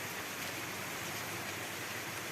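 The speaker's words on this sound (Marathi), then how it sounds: "पाच सहा दिवसानंतर आज पाऊस आलेला आहे" Steady rain falling, a dense even hiss of drops with no breaks, moderately loud and close.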